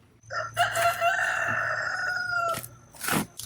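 Backyard chickens near a potato patch, a rooster letting out one long loud crow up close, with shorter clucks and calls before and after it over faint background hum.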